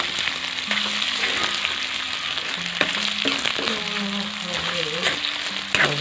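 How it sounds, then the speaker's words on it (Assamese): Pork pieces and cut potatoes sizzle steadily in a pan while being stirred, with a constant close frying hiss and scattered clinks and scrapes of a utensil throughout, no voices. "এতিয়া লৰাই দিব লাগিব।"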